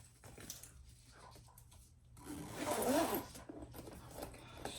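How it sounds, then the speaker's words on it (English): A zipper on a Teddy Mommy & Me diaper backpack is pulled open and shut, giving a close, raspy run of zipping that peaks in the middle against a quiet background. "How perfect it zips and unzips."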